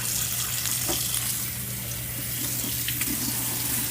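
Tap water runs hard and steady into a sink as strained raw vegan food is rinsed, a continuous splashing rush with faint clinks of handling.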